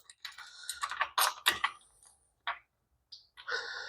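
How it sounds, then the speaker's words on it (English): A BakFlip MX4 tri-fold bed cover latch on a GMC Sierra 1500 truck gives a series of sharp plastic and metal clicks and snaps, close up and in irregular bursts with short gaps between them. "And that weird latch actually clips in, and it'll dang near click into place."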